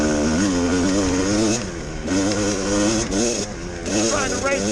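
A Kawasaki KDX200 dirt bike's engine drones loudly and steadily while riding through rocky desert, its pitch rising and dipping with throttle changes, with a rider talking over it.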